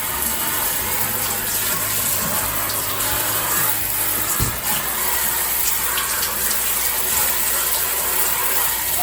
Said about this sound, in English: I have a pressure hose here, which shoots out a little bit of pressurized water